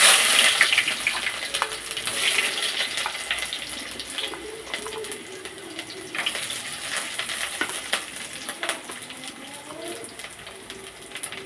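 Ginger and garlic hitting hot oil after mustard seeds have popped, a steady crackling sizzle that starts strong and settles into a continuous fry with scattered pops and light utensil clinks.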